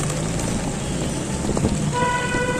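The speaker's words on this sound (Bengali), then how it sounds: "পুরো ঝুম বৃষ্টি হইতেছে।" Heavy rain pours down hard on a street in Old Dhaka, a steady loud hiss heard from inside a shop or rickshaw, with a brief tonal horn-like sound near the end.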